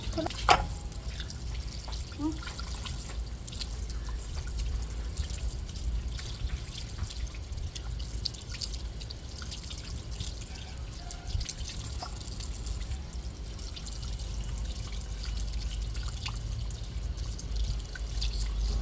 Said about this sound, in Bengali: চলুন মাছগুলো ধুয়ে নি